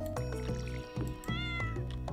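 A cat meows several times in quick succession in the Stardew Valley farming video game, clear close tonal calls with short gaps between them and no talk.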